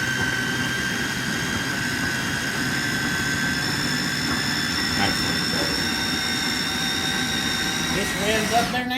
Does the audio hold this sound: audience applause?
no